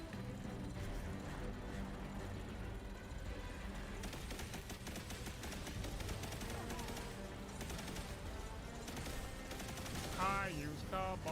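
Rapid, sustained fire from Cabal weapons in the video game Destiny 2 forms a dense, continuous barrage with vehicle-like rumble and other game sounds, while a voice talks over it.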